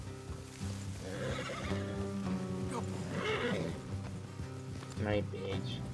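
A horse neighs and whinnies in Red Dead Redemption 2, moderately close, with hoof clops and background game sounds, and a voice speaking over parts of it.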